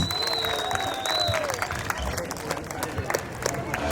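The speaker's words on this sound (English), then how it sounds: "we require a huge round of applause for the Euro Senior students" Audience applause for senior students at a school annual day event, steady crowd clapping and murmur blended with hall noise and a faint tone, continuing at even loudness throughout.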